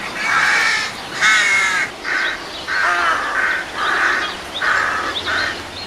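A rook calls repeatedly, harsh grating caws in a steady series of about eight, loud and close, with no talking.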